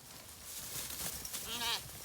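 A sheep in a clover pasture gives a short, quavering bleat near the end, fairly close, over a hissy breezy outdoor background with faint rustling.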